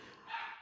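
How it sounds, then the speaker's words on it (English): A faint, brief bark from a small dog somewhere in the background, distant and muffled. "our little munchkin dog, her name is Maisie, is barking at something in the background"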